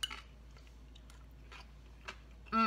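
A few crisp, close crunching bites into a pickled cucumber with short pauses between them, quiet and with no talking.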